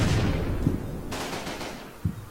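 Gunfire in Combat Mission Red Thunder, a dense rumbling burst of shots with a sharp, closer report near the end, no voices.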